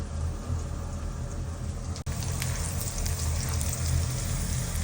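Garlic, ginger, onion and tomato sautéing in a pan for fish sinigang sa miso, a steady hissing sizzle throughout with a brief clatter partway through.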